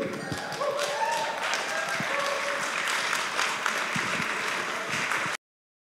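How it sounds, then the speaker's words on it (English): Wedding guests at the Cliff House in Maine break into a round of applause after a toast, a dense, even wash of clapping from a roomful of people that carries on for about five seconds before stopping abruptly. "Big round of applause for Mr. Osier."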